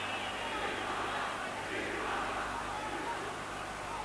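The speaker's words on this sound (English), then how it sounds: "A vociferous chants from particularly the City crowd" Football crowd at a 1987 Manchester City versus Sheffield United match, the City supporters chanting vociferously; a steady, dense roar of massed voices fills the stadium continuously without any break.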